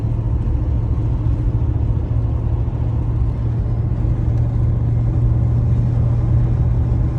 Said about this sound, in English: Let's get to driving.